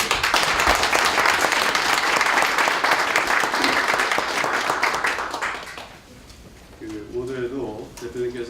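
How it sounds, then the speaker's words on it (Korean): At a meeting with financial investment industry representatives, the room breaks into loud, sustained clapping that tapers off after about six seconds, then a voice speaks over the quieter room. "우리 대표님들 다시 한번 환영과 감사의 뜨거운 박수를 한번 드리고"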